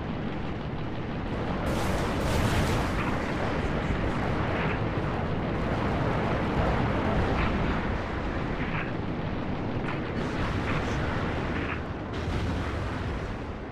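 Sustained gunfire and explosions from the Halo Reach video game, a dense, loud, continuous barrage of booms and shots with sharper bursts scattered throughout, and no talking.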